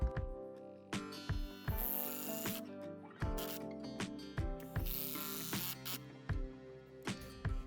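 A ratchet wrench drives 6-inch lag screws through a wooden 4x4 into a 2x6 beam of a garden berry trellis, repeated sharp clicking pawl strokes in a steady rhythm, close and moderately quiet.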